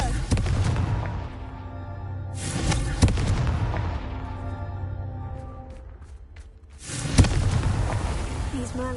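A Confringo blasting spell going off in Hogwarts Legacy, a few booming blasts with rumbling tails over game sound, followed by a final strong burst near the end.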